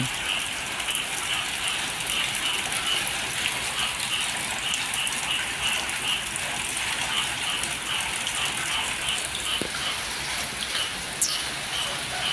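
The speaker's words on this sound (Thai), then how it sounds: "ฝนตกอีกแล้วพี่น้องฝนตกอีกแล้วฝนตกทั้งวันทั้งคืนเลย" Steady rain pouring continuously in a Thai elephant village, a dense hiss with scattered drips and small knocks, no voices.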